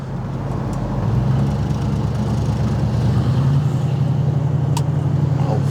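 A 1970 Pontiac Firebird Formula accelerating up through its gears on a test track, a steady, loud, deep engine drone with a slight rise in pitch partway through, heard from inside the car.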